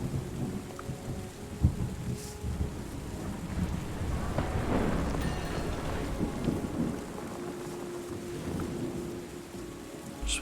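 Rain and rumbling thunder in the game Terra Nil, a steady broadband downpour with a swelling roll of thunder near the middle, continuous and fairly loud with no talk.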